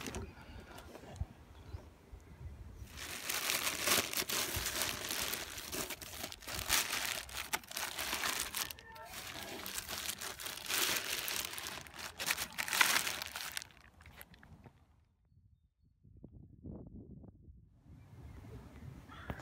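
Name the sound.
crinkling plastic wrapping on amp head cabinet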